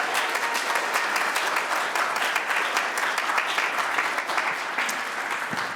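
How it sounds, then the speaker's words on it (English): Sustained applause from a church congregation at a Unitarian Universalist service, dense steady clapping filling the room for the full stretch without voices. "I would like to give another round of applause from SVUU for our dear friend Rick"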